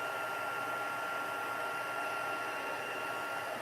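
A heat tool blows a steady, close airy whoosh over craft paint on a Stampin' Up! snowflake card project, running unbroken and fairly loud throughout.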